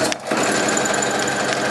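Close, loud sewing machine stitching steadily around a pajama pants pocket seam, a brief stutter at the start, then a continuous mechanical whir with no talk.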